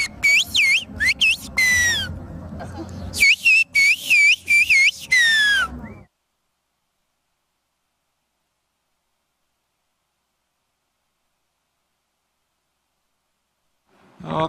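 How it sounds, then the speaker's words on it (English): Whistled language from the misty Black Sea plateaus, with two bursts of loud, sliding whistles that rise and fall over about six seconds, then a long silence. "the whistled sounds will never end across the misty plateaus of the Black Sea"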